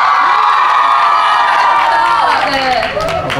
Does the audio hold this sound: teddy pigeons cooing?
no